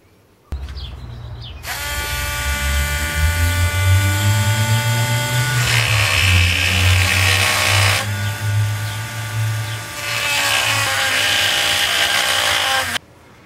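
A rotary tool fitted with a drum mill grinds into the wooden torso of a ventriloquist doll, a high whining buzz that rises and dips in pitch as the cut loads and eases, loud and close, running almost continuously for about twelve seconds.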